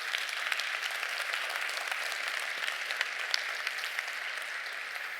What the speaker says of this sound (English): maybe just a quick round of applause for that.